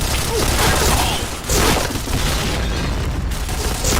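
Dense, continuous game-style blasts and gunfire-like bursts fill the clip, with booming low rumbles and a brief dip near the middle, loud and busy throughout.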